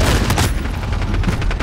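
Dense, loud automatic gunfire from Call of Duty: Modern Warfare multiplayer hammers on in a steady rapid rattle of close-range shots, with no voices over it.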